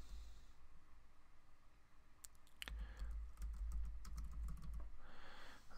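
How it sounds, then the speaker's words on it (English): Someone types a search query on a computer keyboard: a short, close run of quick key clicks over a soft background hum. "So I type in weight loss."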